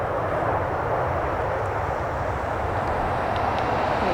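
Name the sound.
Emirates airliner on the runway at Manchester Airport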